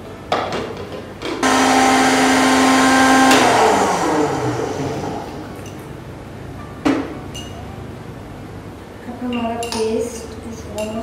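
A blender whirs loudly for about two seconds at steady high speed, blending a rose water mixture, then winds down, followed by quieter rattling and background noise.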